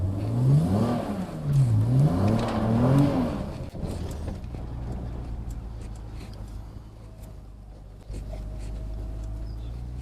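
A BMW 335i with the N54 engine and a limited-slip diff revs hard and peels out, a rising, wavering engine note up close, then dropping to a steadier lower drone as the car pulls away.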